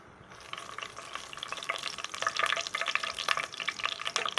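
Bay leaves and dried chillies fry in hot oil and get stirred, a close, steady crackling sizzle that grows busier with scraping movements and no voices.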